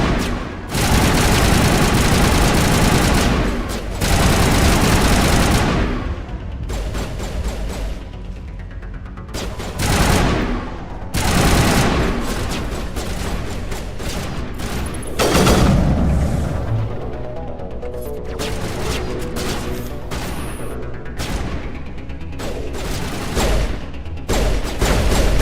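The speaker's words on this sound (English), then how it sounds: "Oh, it's just a rocket launcher." Rocket launcher fire and explosions in the video game Mass Effect 1, loud booming blasts in repeated bursts with rumbling decays, no talking.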